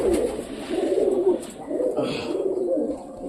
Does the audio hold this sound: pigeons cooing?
yes